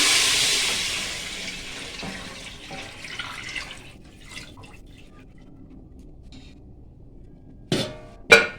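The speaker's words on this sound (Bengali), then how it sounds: "এবার আমি জলটা দিয়ে দেবো। তো জলটা আমি আগে মেপে রেখেছিলাম" Measured water poured into a pot while cooking basanti pulao, a bright rushing splash loudest at the start that tapers into faint trickles and drips, followed by a couple of sharp clatters near the end.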